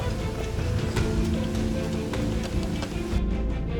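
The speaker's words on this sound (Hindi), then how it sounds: "हमें झरने की आवाज आती है।" Waterfall along a jungle trail in Meghalaya, a dense, steady rushing roar of falling water, loud and close, continuing without pause until it thins slightly near the end.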